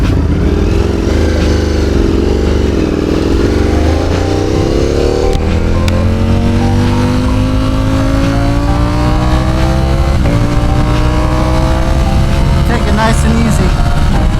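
Motorcycle engine on a track warm-up ride, likely a 2007 Yamaha R1 on track tires, droning steadily close by with rising and falling revs as the rider shifts through gears, loud and continuous throughout.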